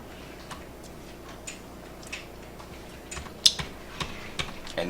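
Keys on a computer keyboard tap in sparse, light clicks that build toward a cluster, including a firmer keystroke for enter, close and quiet with no talking.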